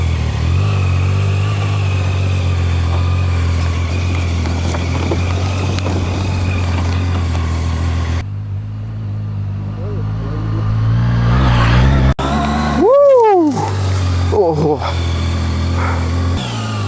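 A Zontes 703F touring-enduro motorcycle engine idles with a steady low rumble, then revs up sharply in a few rising bursts near the end, close by, with occasional voices.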